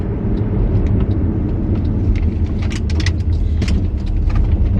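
A car backs up to park, its engine a loud, close, steady rumble with light road and tire noise for a few seconds and no talking.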